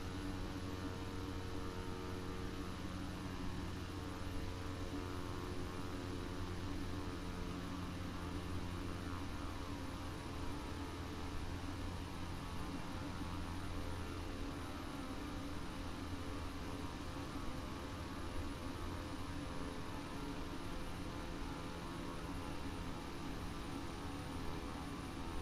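A King Air propeller airplane approaching to land hums continuously at a distance, a steady drone with layered engine tones that hold level throughout without voices.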